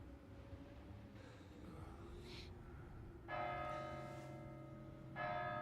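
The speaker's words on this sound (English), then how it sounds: "Four bells." A church bell tolls in the Kingdom Come: Deliverance II video game, two rich ringing strikes set a couple of seconds apart and each left to hum and decay, heard faintly at a distance over a low, steady ambient drone.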